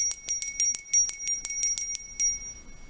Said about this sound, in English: This is a beautiful little silver-plated bell that I have with a pentacle on it.